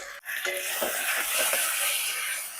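Koi fish dropped into hot oil and cooked spice paste, giving a loud, steady sizzle that holds close and continuous throughout with a faint stirring texture.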